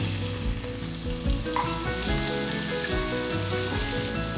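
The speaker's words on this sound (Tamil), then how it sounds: "அடுத்து ஒரு பெரிய வெங்காயம் பொடியை நறுக்கினது சேர்க்குறேன்." Loud, continuous sizzling of chopped onion frying in hot oil, with occasional stirring and scraping sounds over the crackle.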